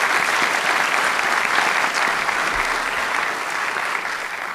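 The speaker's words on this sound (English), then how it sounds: "Round of applause for a difficult section there." Steady applause from an audience after a debate on whether Jesus rose from the dead, dense and continuous clapping that holds at an even level and eases slightly near the end.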